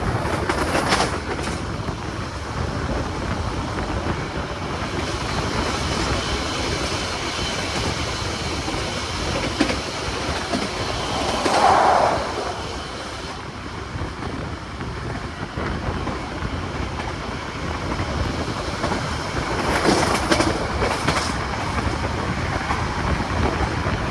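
KA Argo Wilis passenger train running on rails between Bandung and Surabaya, heard from inside as a steady rumbling roll with faint clickety-clack and occasional brief squeals, continuous and moderately loud with no talk.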